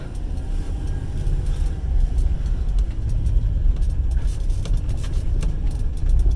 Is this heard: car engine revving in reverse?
yes